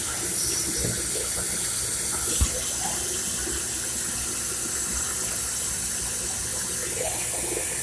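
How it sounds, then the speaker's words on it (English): Water runs steadily to flush a drain port, a close, continuous gushing like a tap filling a sink, with a single brief knock partway through. "Run some water and flush it through that"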